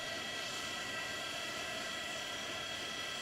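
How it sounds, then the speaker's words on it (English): The six engines of an Antonov cargo plane in a flight simulator game, a steady, droning jet roar with a continuous whine, even and unbroken throughout, fairly quiet in level. "Can you hear the engine on this?"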